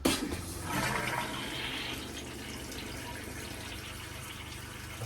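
An RV toilet flushes with a loud rush of water that peaks early, then settles into a steady running and filling flow, heard alone.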